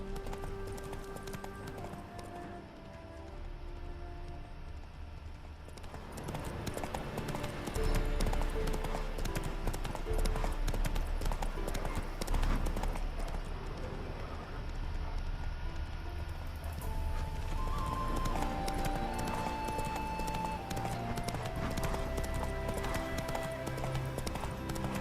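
Hooves of Roach, a horse in The Witcher 3, clopping rhythmically for a long stretch beneath a game score and ambience, sometimes soft and sometimes heavier.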